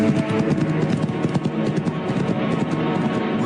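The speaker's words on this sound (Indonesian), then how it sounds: "Kuda Kanjeng, kuda Andika memang luar biasa" Horse hooves clip-clop in a quick, steady rhythm, loud and close with a continuous clatter of hoofbeats and no talk over them.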